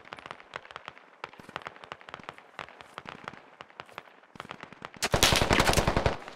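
Rapid automatic gunfire crackles through a SquadOps video game match, bursts of sharp shots in quick strings, then a louder, denser volley near the end.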